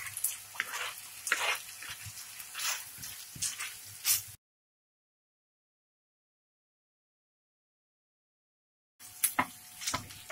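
Meat sizzles in a pan with chopped black olives and chopped boiled egg for an empanada filling, a steady crackling fry with stirring that cuts off into silence midway and then resumes briefly.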